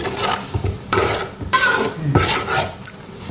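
Pork and red curry paste with coconut cream are stir-fried and simmered in a pan for a Thai panang curry with bamboo shoots, with loud rhythmic scraping strokes of a utensil over a bubbling sizzle, up close, no talking.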